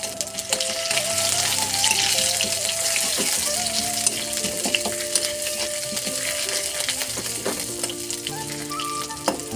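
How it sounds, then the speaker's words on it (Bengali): Whole cumin seeds and ginger paste sautéing in reheated chili-frying oil, a bright continuous sizzle with clinks and scrapes of stirring throughout, close and fairly loud, with faint background sounds. "এখন লঙ্কা ভাজা তেলটা আবারও গরম করে হাফ চামচ গোটা জিরে ও 1 চামচ আদা বাটা দিয়ে"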